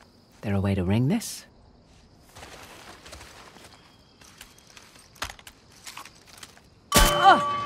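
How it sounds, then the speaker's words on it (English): A large bell struck once in Uncharted: The Lost Legacy, ringing out loud and near with a bright, sustained metallic clang at the end, after a quieter stretch of footsteps and small sounds. "Ringing the bell removed one of the bars."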